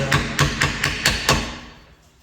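A soft plastic hammer taps a metal punch while a shock absorber is being taken apart, six evenly spaced sharp knocks that ring briefly and then fade out.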